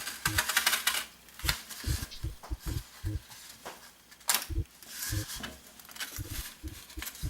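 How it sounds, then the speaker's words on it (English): A piece of styrofoam is cut by hand for a homemade air gun, giving dry, crisp scratchy bursts in an uneven rhythm, close and fairly loud. "And now I'm just going to cut out a piece of styrofoam just to cover everything up with."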